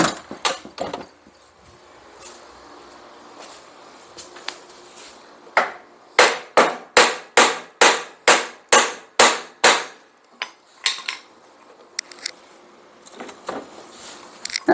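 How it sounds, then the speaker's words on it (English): Sharp hammer blows hit seized, rusty drive wheel parts on a Quantum lawn mower, a quick run of about a dozen close, evenly spaced metallic strikes with scattered lighter taps before and after. "let's swat it with a hammer and see what we can do."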